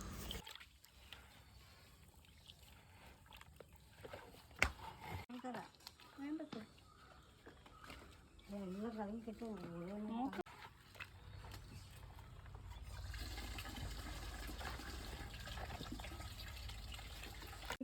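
Mixed cow dung slurry is poured and splashed across a home courtyard. Voices talk nearby through much of it, and a louder, steady wet gushing takes over near the end.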